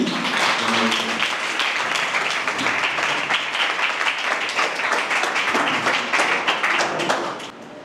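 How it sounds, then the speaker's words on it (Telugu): A church congregation claps to welcome someone, a sustained round of applause from many hands at moderate distance, fading slightly at the end. "సంఘమంతా చప్పట్లు కొడుతూ ఆయన ఆహ్వానించాలని"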